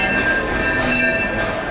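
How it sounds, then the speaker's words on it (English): Disneyland train drawing near, a steady rumbling rail sound with faint tonal whistle-like overtones, continuous and moderately close, brief with no talk. "Is that the train I hear coming now, Ron?"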